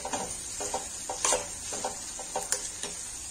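Onions and curry leaves frying in oil are stirred with a spoon, bringing a faint sizzle under a run of light, irregular clicks and scrapes against the pan, close up and quiet, with no talking.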